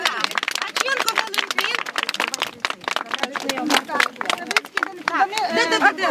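Children clapping at a summer camp gathering in Halychyna, a dense patter of applause mixed with chatter and speech across the whole span, fairly close and lively.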